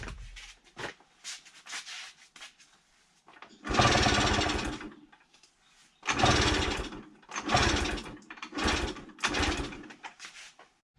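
A Honda MTX 50cc moped engine on a freshly swapped carburetor revs up high unprompted in loud, rasping bursts, each lasting about a second and separated by short lulls.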